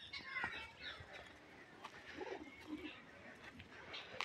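Pigeons cooing in a pigeon loft, soft, low, rolling coos and a few faint chirps, quiet and intermittent, with a sharp handling knock at the end.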